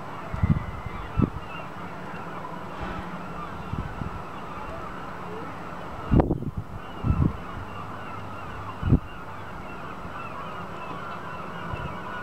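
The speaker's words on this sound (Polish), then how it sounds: "Tam ptaki zwariowały." Geese or similar fowl honk in several loud bursts against a steady outdoor hum during a total solar eclipse, with faint voices now and then.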